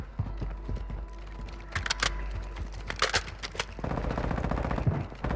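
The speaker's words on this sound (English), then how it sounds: "Taking effective fire." Gunfire in a first-person shooter video game: sharp scattered shots and short bursts, some close and loud, with a rapid rattling volley near the end.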